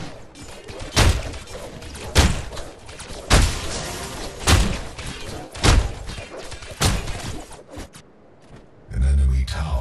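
Repeated heavy crashes and thuds as an enemy tower is destroyed in the MOBA Paragon, half a dozen loud impacts about a second apart with game clutter between them, then a low rumble at the end.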